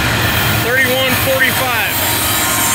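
A freight train's DPU helper locomotive rolls past with a loud, steady diesel and rail rumble. A voice talks briefly over it, and a few wavering tonal squeals ride on top.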